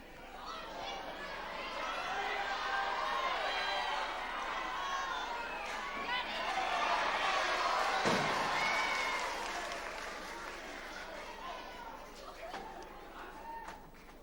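A packed wrestling crowd at the Drill Hall in Lincoln applauding and cheering for Bert Royal, a sustained swell of clapping and crowd noise that rises and falls over several seconds, with voices mixed in.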